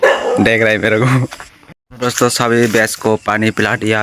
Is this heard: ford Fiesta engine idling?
no